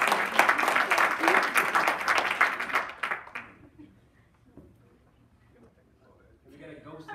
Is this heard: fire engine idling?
no